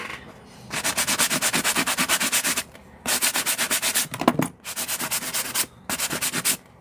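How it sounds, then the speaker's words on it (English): A sanding block rubs vintage wood in fast, rhythmic back-and-forth strokes, four bursts separated by short pauses, close and loud. "I use a sanding block."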